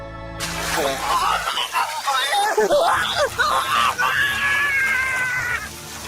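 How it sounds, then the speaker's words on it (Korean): A man screams in agony as his body is lowered into acid on a water wheel, a loud drawn-out cry that breaks into groans and wails. "우도가 찢어질 듯한 목소리로 비명을 질렀다."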